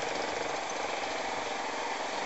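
Yamaha MT-03 motorcycle engine running steadily while riding, a continuous buzzing drone with wind rush, no talk over it.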